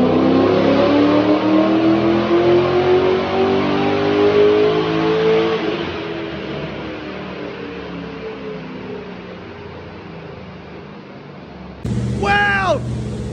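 A tuned car engine with decked heads pulls hard on a dyno, a loud rising roar that climbs in pitch before easing off into a droning fade, then a short burst of excited voices at the end.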